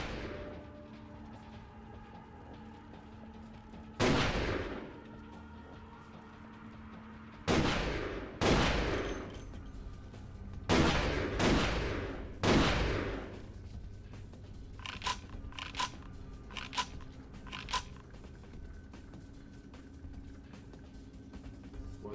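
Gunfire in Vampire: The Masquerade – Bloodlines: a series of sharp, loud shots and short bursts scattered irregularly, some in quick clusters, over a quiet low background hum.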